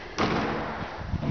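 An entrance door of a hotel in Portugal closes with a single soft thud, followed by faint bumps and handling noises close by.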